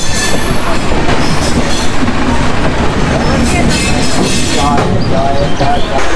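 A passenger train rolls away from Kamakhya station near Guwahati in a loud, steady rumble of wheels on track, with rhythmic clatter and a faint wheel squeal, and voices talking inside the carriage.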